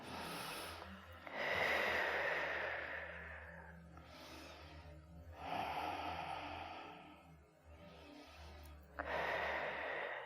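Deep yoga breaths during a gentle seated exercise session: three long, airy inhales and exhales, close and fairly soft, separated by short quiet pauses, with no talking.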